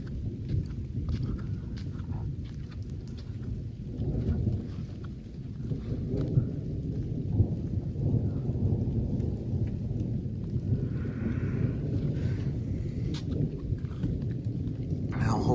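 A thunderstorm with light rain: deep thunder rolls through the whole stretch, rain patters above it and some faint voices come and go in the background.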